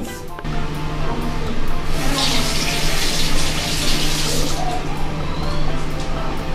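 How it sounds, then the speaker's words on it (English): Hands being washed under a running tap at home: a loud, steady gush of water pouring into a sink for several seconds, close by, with a faint background hum. "Because I need to wash my hands for 20 seconds."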